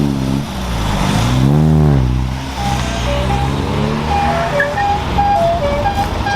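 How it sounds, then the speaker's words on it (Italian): A vintage lobster- or brick-coloured Fiat 127 arriving at a classic car meet, its engine note rising and falling through gear changes as it draws near, loud and close, with a faint tone sounding later and no talking. "sta arrivando una delle mie auto preferite, Fiat 127, colore aragosta o mattone"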